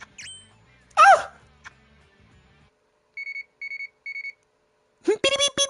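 Three short, evenly spaced electronic beeps from a message alert in the video game Bleach Brave Souls sound alone after a stretch of near silence. Brief vocal sounds come before and after them.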